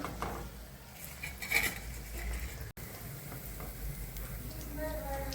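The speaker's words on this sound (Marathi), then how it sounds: "तेलने तळून घ्यायचं चांगलं." Pea paneer koftas frying in hot oil give a steady close sizzle, with light utensil clinks and a brief dropout midway.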